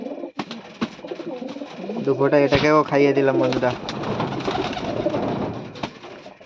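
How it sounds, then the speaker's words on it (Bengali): A young pigeon coos up close in a clear, throaty, warbling phrase lasting about two seconds, with a voice talking before and after it. "এটা জোয়ান পায়রা।"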